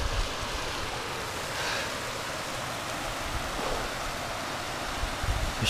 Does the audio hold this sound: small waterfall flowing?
yes